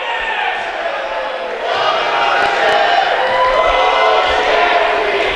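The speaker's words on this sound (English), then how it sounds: "you can hear the crowd disagreeing with the call" A large indoor crowd at a college men's basketball game roars with disapproving shouts and jeers at a referee's foul call, loud and sustained, swelling partway through.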